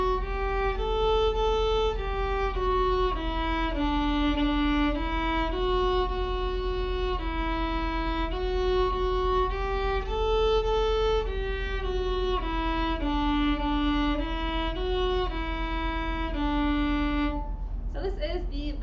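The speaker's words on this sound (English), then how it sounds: "This is a violin." A violin plays a slow melody of sustained bowed notes, clear and close, with steady rich harmonics and a brief pause near the end.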